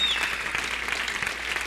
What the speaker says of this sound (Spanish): Dele palmas a ese Dios.